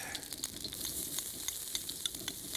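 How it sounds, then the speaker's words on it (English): Strips of seal fillet fry in a pan with beer and chopped onions, making a soft, continuous sizzle with rapid tiny crackles, faint and close, with no speech. "Then we'll add a few chopped onions into that"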